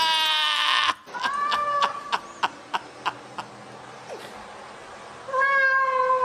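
A cat meows several times: a long meow, a short pause, then a series of shorter meows and clicks, and one more meow at the end, close and clear with no talk.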